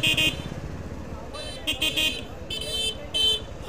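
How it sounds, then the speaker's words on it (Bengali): A motorcycle horn with a fault gives repeated shrill, thin beeps in short bursts, close by over a steady engine rumble and road noise on a night ride. "হর্নটা না আমার একটু সমস্যা, একদম প্যাঁ প্যাঁ প্যাঁ প্যাঁ পিনপিনিয়ে বাজে।"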